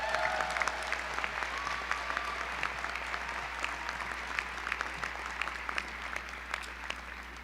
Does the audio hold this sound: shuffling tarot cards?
no